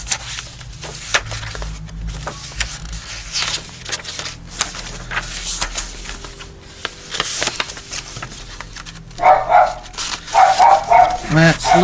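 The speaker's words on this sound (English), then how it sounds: "That's Lily that you hear barking." French Bulldogs barking indoors, a run of sharp yaps and yips that grows louder and more frequent toward the end, mixed with talking and the rustle of papers being handled nearby.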